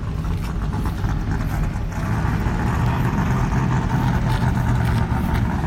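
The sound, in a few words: Proline Racing V8 drag racing engine, about 4,000 horsepower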